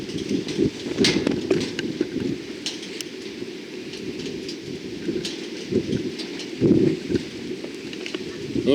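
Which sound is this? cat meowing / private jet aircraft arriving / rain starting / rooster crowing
rain starting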